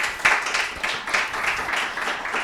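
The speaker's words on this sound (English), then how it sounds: "please give Dani a round of applause" An audience claps for Dani, the speaker, at the close of a talk on building accessible iOS apps. The applause is a steady, moderately quiet patter of many hands that holds through the clip with no voices over it.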